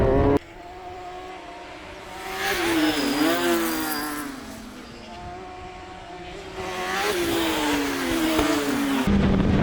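Race car at Cadwell Park circuit, its engine revving hard through the gears in two rising and falling surges, loud and close, with a brief dip between pulls.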